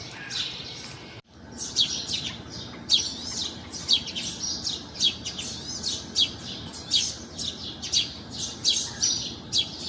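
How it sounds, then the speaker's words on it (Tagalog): Bird chirps repeating in quick bursts over a steady low background hum, bright and fairly close, with a brief dropout near the start. "Yung pala yun, yung naririnig kong tunog ng ibon."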